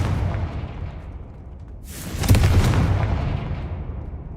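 Confringo spell explosion in the video game Hogwarts Legacy, a single sudden fiery burst over a low rumbling game ambience, loud and close, decaying over about two seconds.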